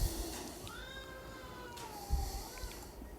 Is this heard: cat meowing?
yes